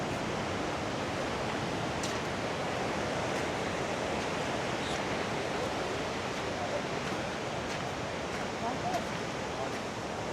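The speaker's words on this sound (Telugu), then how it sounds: "ఇదిగోండి హాట్ స్ప్రింగ్ వాటర్." Steady rushing hot spring water fills the scene at a snow monkey park in Yudanaka, Japan, a constant broadband flow with faint, distant voices underneath.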